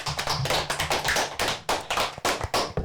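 A primary-school class applauds a pupil's reading, a close, steady patter of clapping hands with slightly uneven claps, no voices over it.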